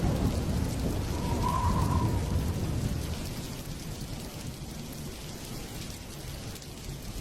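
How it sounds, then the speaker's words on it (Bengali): Heavy rain with thunder, a dense steady downpour with a low rumbling roll early on that fades into continuous rainfall, moderately loud with no talking. "বাইরে ঝমঝম করে বৃষ্টি পড়ছে।"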